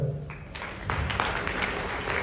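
Audience applause welcoming a speaker onto the stage at a network marketing awards event, a dense wash of clapping that swells after a brief voice at the start and carries on steadily.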